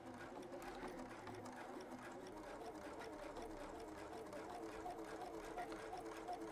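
A sewing machine stitches binding onto a knit neckline in a steady, continuous whir, fairly quiet and unbroken throughout.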